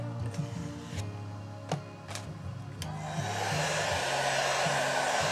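A heat gun blows steadily while warming epoxy during the take-apart of a Windy U Master 814, a continuous close airy whoosh that swells and grows brighter after a few seconds, with a few small clicks early on.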